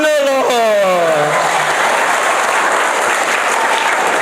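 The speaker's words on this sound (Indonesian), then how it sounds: "Tepuk tangan dulu." A church congregation bursts into loud, dense applause, and a voice or tonal sound trails off at the start before the clapping fills the room alone.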